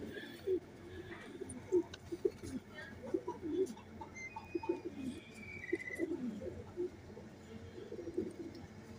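A female Sialkoti pigeon repeatedly gives soft, low coos in short irregular bursts, close but quiet, with faint chirps and someone speaking in the background.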